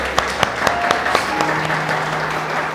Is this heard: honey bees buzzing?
no